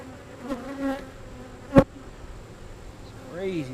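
Honeybees hum around an open hive, with individual bees whining past close by and a single sharp knock or tap midway; no talking.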